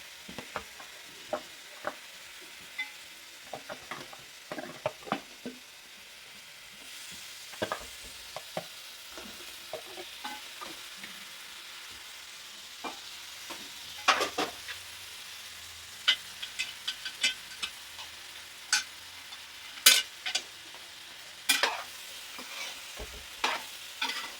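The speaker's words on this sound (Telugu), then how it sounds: "క్లీన్ చేసుకున్న ఫిష్ వేసేస్తుందండి." Cleaned fish pieces go into a hot pan for a fish curry, with a low sizzle under repeated sharp scrapes and knocks of a spoon stirring and turning them. The scrapes come in irregular clusters over about twenty seconds, with no talking.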